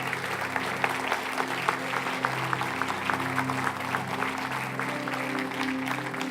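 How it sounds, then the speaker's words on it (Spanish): Church congregation applauding steadily, a dense continuous wash of many hands clapping at moderate distance, with faint voices and a low hum beneath. "dale un aplauso al Señor."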